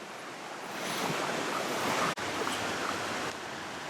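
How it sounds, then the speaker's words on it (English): High water rushes through seasonal Sutter Creek as a steady broadband roar, close and constant, with a brief dropout midway. "This is our seasonal creek."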